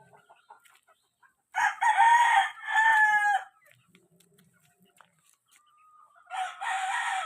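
A four-month-old gamecock of a Sweater and Gilmore fighting-cock bloodline crows twice, a long loud crow near the start and another toward the end, with quiet gaps and faint background noise between.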